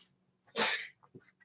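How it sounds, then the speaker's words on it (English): One quick sneeze from a man across a basement, fairly faint and distant, followed by a few soft breaths and small sounds. "over there sneezing on the other side of the basement."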